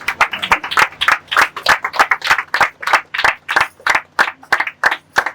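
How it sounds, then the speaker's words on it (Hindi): A church congregation claps in praise, loud rhythmic hand claps beating in a steady regular pulse for several seconds with no talking. "जिसके बैठते हैं प्रभु को महिमा की तालियां देंगे।"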